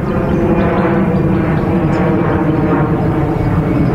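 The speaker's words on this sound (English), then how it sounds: "Must be the greatest takeoff ratio of aircraft in the world." Steady, loud broadband roar of a fixed-wing aircraft taking off at a country airport, a continuous engine rumble that holds throughout without pause.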